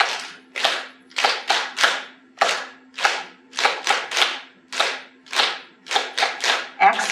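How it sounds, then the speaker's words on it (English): An audience in a laughter yoga session claps with palms pressed together in namaste position, producing crisp, close claps in irregular bursts and short runs of two to four, with brief pauses between groups. "So we clap in the namaste position."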